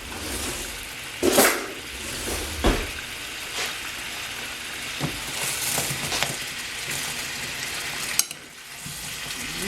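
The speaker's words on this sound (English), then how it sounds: "Let's find something to stir." Potatoes and green beans stirred in a frying pan, a steady soft sizzle broken by a few sharp scraping clanks of the utensil against the pan, heard close with no talking.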